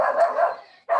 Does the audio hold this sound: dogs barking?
yes